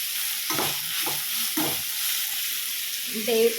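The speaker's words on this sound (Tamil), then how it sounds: "நல்லா கிளறி விட்டுக்கிட்டே இருக்கும், அதனால் சீக்கிரம் வெந்துடுச்சு" Carrots and beans frying in a pan are stirred with a spoon, a steady soft sizzle broken by several scraping stirs close by.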